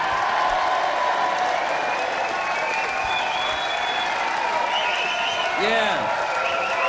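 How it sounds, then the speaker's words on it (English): An audience claps and cheers in a small live concert venue, sustained applause throughout with a few scattered whistles and shouts rising near the end. "so give us a big round of applause."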